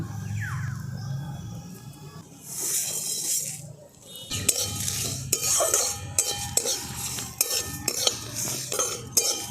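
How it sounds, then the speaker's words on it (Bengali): Whole spices and dried red chillies are dry-roasted in a kadai for mango pickle, with steady rustling and scraping of a stirring spoon against the metal and occasional sharp clinks, close up over a low background hum. "এইগুলোকে সব আমি শুকনো কড়ার মধ্যে ভেজে নেব"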